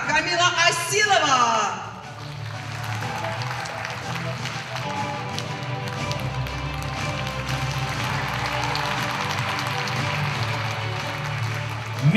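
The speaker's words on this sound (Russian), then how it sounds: "давайте будем поддерживать наших прекрасных финалисток бурными аплодисментами" A crowd applauds the finalists at the Miss CIS 2022 beauty pageant. The sustained, dense clapping starts after a short loud opening sound and continues steadily, with an amplified voice over it.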